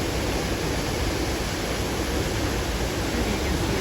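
A huge waterfall in a Costa Rica cloud forest, heard from a viewing platform as a loud, steady, broadband roar of rushing water that never lets up.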